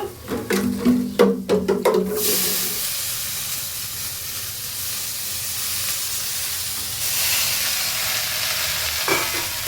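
Fenugreek leaves hit a pan of frying garlic, dried chilli and eggplant with a loud rushing hiss and steam. The scraping stir clicks of the first two seconds give way to a sustained close sizzle.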